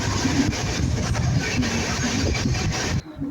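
A long passenger train on the Kolkata to Jalpiguri route rumbles steadily on a rainy, overcast day, a loud continuous roar with rhythmic clatter that cuts off abruptly near the end.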